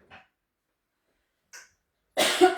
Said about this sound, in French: Ça tousse.